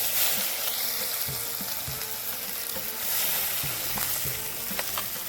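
A ground paste of green chilli, cumin and coriander fries in hot oil with mustard seeds in a kadhai on a wood-fired stove. The sizzle is loud and continuous, broken by scraping stirs and small pops. No voices are heard.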